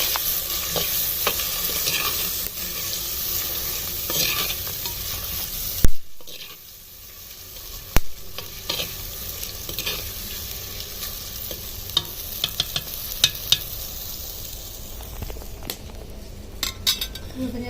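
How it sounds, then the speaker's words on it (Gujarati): A spoon stirs turmeric into soybean khichdi cooking in a clay pot, a continuous sizzle with scraping and clinks of utensil against the pot, and occasional sharper knocks. "નાખી દેવું હળદર આટલી મિક્સ કરી લો"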